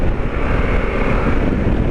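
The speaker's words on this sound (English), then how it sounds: "You pick your head up and you're definitely into some wind." Wind buffeting the rider's helmet on a 2021 Harley-Davidson Pan America motorcycle at speed: a loud, continuous low roar and rumble that rises and falls slightly, with no voice.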